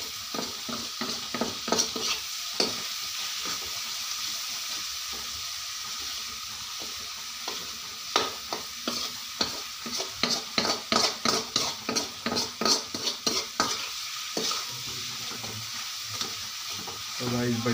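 Ground red chili and turmeric with garam masala get stirred in a frying pan, a quiet sizzle broken by a quick run of rhythmic spoon scrapes and knocks against the pan.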